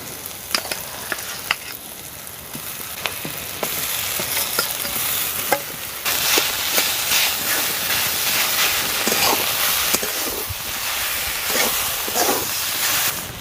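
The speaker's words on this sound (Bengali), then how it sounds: "এবার সেদ্ধ করে রাখা আলুটা দিয়ে দিচ্ছি।" Boiled potato added to cooked beans and carrots in a hot pan, steady frying hiss with a series of stirring and mashing taps, growing louder midway, no speech.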